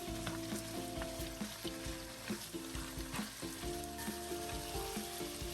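Goat meat frying with onions in hot oil gives a steady crackling sizzle dotted with stirring scrapes and spatula knocks, close and moderately loud.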